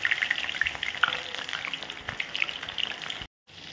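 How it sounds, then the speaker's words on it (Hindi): Chicken pieces frying in hot oil in a kadai make a dense, bright, crackling sizzle with popping spits, close and steady until a brief cut near the end. "अलग पलट करके इसको अच्छे से फ्राई करके लेंगे"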